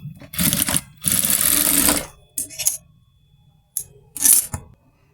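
A sewing machine runs a final reinforcing stitch on a 36-inch salwar in bursts: two long whirring runs followed by several short spurts separated by pauses, close and fairly loud.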